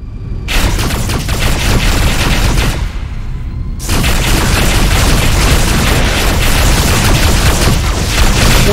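Starfighter weapons in the Galaxy Rebels space-combat game unleash dense, continuous barrages of blaster fire and booming explosions, loud and close, with one brief lull before the onslaught resumes.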